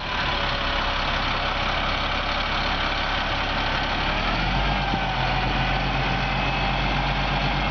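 A truck engine idling steadily while the air PTO is engaged to raise the dump body, a loud, continuous low rumble that deepens slightly partway through, with no voices.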